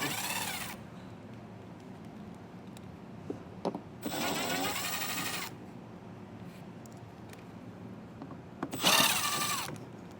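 A power drill fitted with a T15 Torx bit whirs in three short bursts, each a couple of seconds long, to remove wheel well screws on a 2023 Buick Enclave. The bursts are separated by quiet pauses with faint handling noise.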